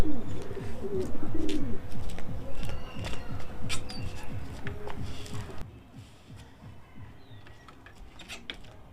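A male pigeon coos softly near a cage, low repeated cooing for several seconds with some shuffling and scattered bird calls, fading quieter toward the end.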